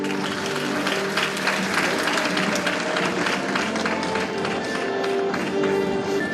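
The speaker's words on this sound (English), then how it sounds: "let's give another round of applause for the letter A Club honorees" Sustained applause fills a banquet hall as alumni honor a Letter A Club honoree at a homecoming banquet, a dense, even clatter of many hands with crowd murmur beneath.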